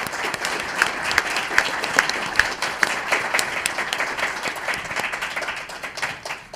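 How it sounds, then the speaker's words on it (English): Sustained audience applause fills the room at the close of a university panel discussion on city and state politics, dense and steady throughout with no talking over it. "let's have a round of applause for the panel."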